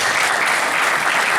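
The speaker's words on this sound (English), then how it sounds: "So maybe you can even applaud for yourselves for that." Graduates at a graduation ceremony applauding themselves, a brief burst of dense, close clapping from a group filling the moment evenly.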